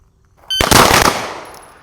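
At a shooting seminar, a close, loud burst of rapid gunshots rings out after silence, then the echo slowly fades.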